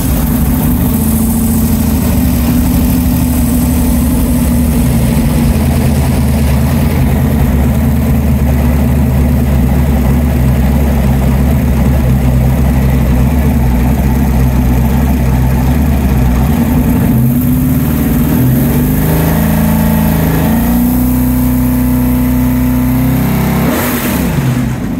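A 427 Ford V8 with a new Dart block, AFR heads, roller cam and Holley Sniper fuel injection runs loud and close in a 1966 Ford F100 truck, idling with a deep rumble and rising into several revs.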